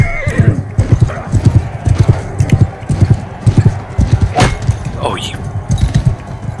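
Horse in the video game Mount & Blade II: Bannerlord, with rapid, rhythmic hoofbeats running throughout and a sharp, close neigh partway through, under light talk.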